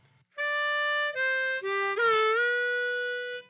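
Harmonica blues riff played alone, a few clear sustained notes in a single breath, the last note on hole 3 bent downward with a sliding pitch wobble before ringing out.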